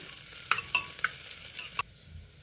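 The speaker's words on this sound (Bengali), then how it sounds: "আদা রসুন সব কুচিয়ে দিয়ে দিচ্ছি সবজির উপরে দিয়ে একটু ভেজে নেব সবজিটা একসাথে সব ভেজে নিচ্ছি একটু" Chopped vegetables with onion, ginger and garlic fry in a pot for mutton stew, a short close sizzle with several quick utensil clinks and scrapes before it drops away.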